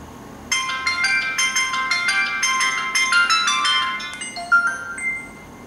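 LG Optimus L5 II (E450) phone speaker playing a bright, chiming melodic ringtone, a run of tinkling tonal notes that starts abruptly and fills the clip at moderate loudness, with no talking.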